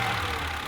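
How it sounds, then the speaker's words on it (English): Straight six-cylinder fuel-injected engine of a 1988 BMW needing its valves adjusted runs at a steady idle, a dense continuous drone close up with no voices. "This is the heart of a BMW. A straight 6-cylinder fuel-injected engine."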